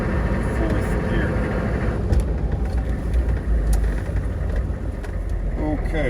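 A 1998 AM General Hummer H1 on the move in fourth gear gives a continuous deep engine and road rumble from inside the cab, with someone talking over it.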